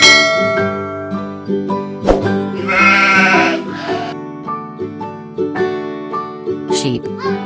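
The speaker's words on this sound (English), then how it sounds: "Sheep." Sheep bleating in a kindergarten animal-sounds lesson, several wavering bleats over steady background music, fairly loud and close.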